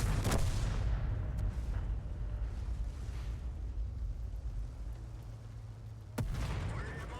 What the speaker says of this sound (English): we took a hit from the BZ176